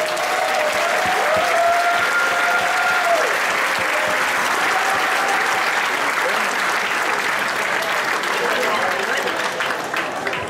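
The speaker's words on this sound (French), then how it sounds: "nourrir des gros applaudissements pour les remercier de cette magnifique infrastructure" Big applause at a national day celebration in a Swiss commune, sustained crowd clapping that stays loud and even for about ten seconds, with a few voices and a brief whistle-like tone mixed in early.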